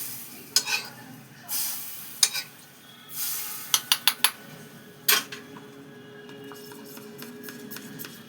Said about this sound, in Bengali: এইবার আমি এর মধ্যে এই যে গরম তেল হয়েছে, তেলটা থেকে একটু নিয়ে নেব